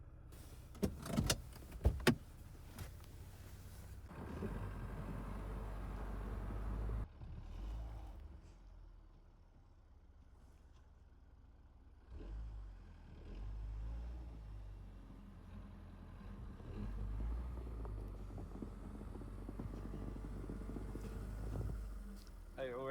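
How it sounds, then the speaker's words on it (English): A car engine revs and strains while its wheels spin on a slippery, snowy driveway, rising and falling in long surges with occasional bumps, heard from close by alongside some talking. "I already got stuck up there. Yeah. You got the wheel spin."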